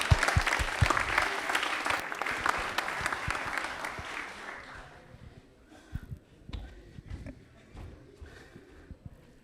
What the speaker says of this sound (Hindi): तालियां एक बार जोरदार हो जाए इनके लिए प्लीज।